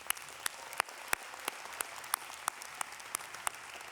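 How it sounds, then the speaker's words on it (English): An arena audience at a graduation ceremony claps for the musicians, giving steady applause with sharp individual claps standing out, close and alone. "Let's give them a round of applause."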